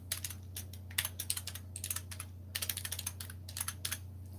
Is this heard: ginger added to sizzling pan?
no